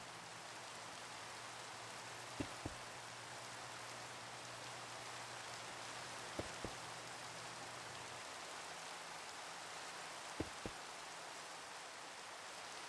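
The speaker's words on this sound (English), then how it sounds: "Of course it's raining." Steady rain in Minecraft, a soft, even hiss of falling water with a few faint clicks here and there.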